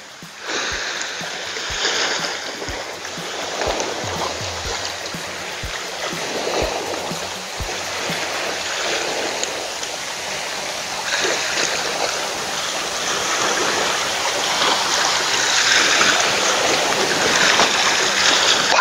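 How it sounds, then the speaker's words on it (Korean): Sea waves wash and crash against a rocky shoreline on a calm, windless night along a fishing coast, giving a steady, loud, continuous surge with faint splashes and no talk. "바람은 없지만은 파도가 갯바위에 부딪히는 소리는 요란스럽습니다"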